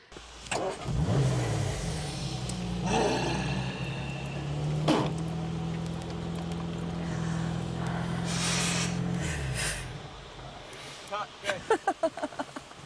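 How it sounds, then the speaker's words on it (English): A car engine revs and pulls away on a sandy beach in cold weather, a mid-pitched motor rising and holding steadily before fading, followed by a few sharp knocks at the end, with talk heard alongside. "And when the car pulls away, that's me driving it."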